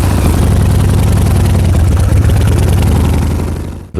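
A Grandeur Cycle motorcycle engine runs loud and close with a steady mechanical drone as it is put in gear, holding constant before dropping away abruptly near the end.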